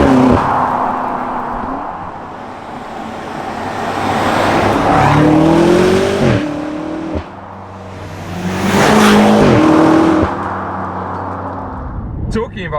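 BMW M5 F90 saloon with a deep engine note rising and falling twice through revs, loud and close, with tire noise and someone talking over it throughout.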